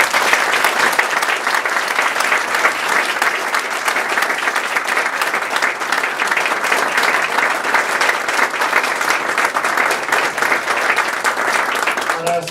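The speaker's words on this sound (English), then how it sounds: "let's give them another round of applause." Sustained applause from a large audience at a Global Entrepreneurship Week kickoff event in Lexington, Kentucky, steady and dense throughout, honoring entrepreneurs standing before the room.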